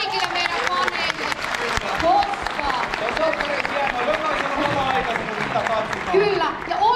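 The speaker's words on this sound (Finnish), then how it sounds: "otetaan vielä isot aplodit kaikille meidän faneille." A crowd of fans at a 25th anniversary show for a Finnish soap opera claps and cheers loudly, a busy wash of applause with whoops and voices mixed in throughout.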